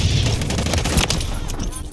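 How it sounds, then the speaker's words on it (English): Rapid gunfire in a Call of Duty match on the Departures map, a dense continuous fusillade of shots filling the whole stretch at close range, with game noise and a voice mixed underneath. "Someone shooting from behind?"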